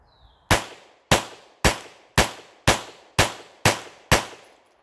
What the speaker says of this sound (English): Let's take a few shots.